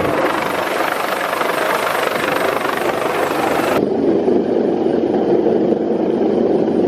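A loud, steady rescue helicopter drone with a throbbing rotor beat, hovering close by a sailboat at sea off the UK, continuous throughout, with no voices.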